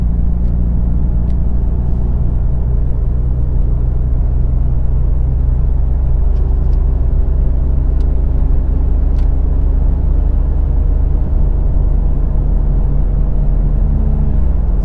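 A car driven after a transmission service with a turbo replaced, its engine a loud steady low rumble from inside the cabin as it accelerates gently, with brief faint clicks and no clearly marked gear changes.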